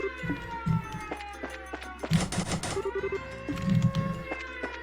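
An alarm siren wails in the command center of Trails in the Sky, a muffled, sustained tone heard from inside a room, with layered game sounds and brief blips over it.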